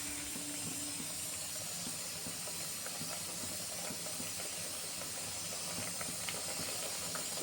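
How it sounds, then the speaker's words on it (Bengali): Curry gravy at a rolling boil in a pot, a continuous close bubbling hiss with small pops and crackles throughout, steady in level from start to finish. "ঝোলটা ফুটে গেছে, কোপ্তাগুলো দিয়ে দেব।"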